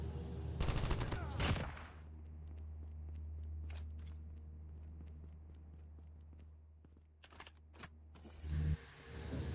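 Gunfire in Call of Duty, a squad match: a loud rapid burst of automatic shots opens, followed by a low steady hum with scattered faint footsteps and clicks, then another short burst of shots near the end.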